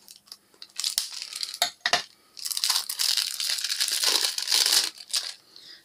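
A craft-haul package being opened, with loud, close crinkling and crumpling of plastic packaging, a few sharp tearing bursts and then a sustained rustle that fades at the end, with no voices.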